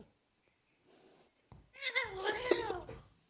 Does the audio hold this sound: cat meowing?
yes